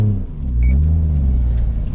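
A car engine rumbles steadily while reversing into a car meet, a deep, loud, continuous low drone that swells slightly partway through, with no voices over it.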